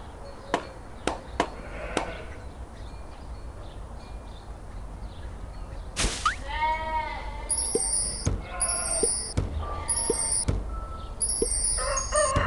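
A video game rooster crows loudly partway through, following a few sharp chopping clicks, with cheerful electronic chime effects repeating afterward.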